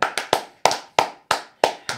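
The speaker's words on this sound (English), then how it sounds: "Yo, just take the applause, yo." Hand claps ring out sharply and close, about seven distinct claps in a steady, slightly uneven rhythm, each with a quick decay in a quiet room.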